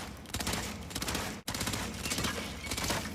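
Rapid automatic gunfire from a weapon in the VR game Hitman 3 VR, loud and dense bursts filling the clip with a brief gap midway, no talking.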